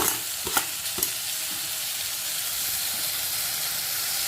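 Capsicum, potato and other chopped vegetables sauté in a hot pan with a steady sizzle, a few sharp scrapes of stirring near the start, then continuous frying hiss with no talk.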